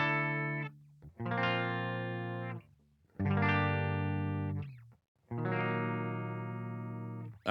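Sustained electric guitar chords ring out clean and full through the clean channel of a metal amp simulator, three long strums each held for about two seconds with brief gaps between, no voices.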